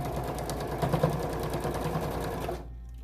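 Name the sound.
sewing machine stitching fabric with batting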